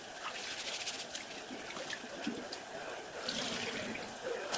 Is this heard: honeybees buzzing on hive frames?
no